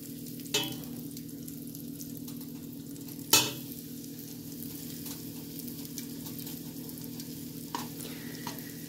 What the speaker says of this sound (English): And from that sizzle, could have been a little hotter.